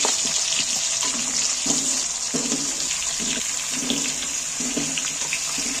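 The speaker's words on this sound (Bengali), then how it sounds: "আলুগুলো তুলে দিচ্ছি তেলের মধ্যে।" Small potatoes fry in hot oil in a pan, a steady close hiss with soft, repeated knocks and stirring scrapes throughout.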